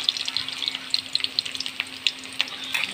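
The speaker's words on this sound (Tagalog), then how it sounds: "may mantika na yung kawali guys, gisa-gisa lang, luya, sibuyas, bawang." Ginger, onion and garlic sautéing in hot oil in a pan for chicken adobo, a steady close crackling sizzle with small pops throughout, no talking.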